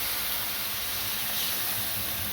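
Steady hissing sizzle as a little water hits frying chili, coriander and cumin powder paste in a village kitchen, a continuous bright spray-like wash with no talk over it.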